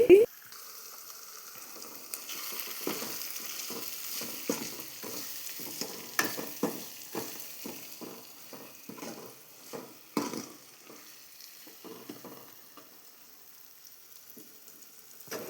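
A tempering fries with salt for buttermilk rasam (majjiga charu), a steady sizzle under repeated stirring and scraping strokes in the pan, heard up close with no speech.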